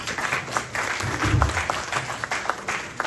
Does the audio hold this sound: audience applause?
yes